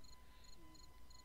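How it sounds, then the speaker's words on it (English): Cricket chirping sound effect, a steady series of short, evenly spaced high trills repeating about every half second, faint and alone over a low background hum. "I was overusing that cricket sound effect"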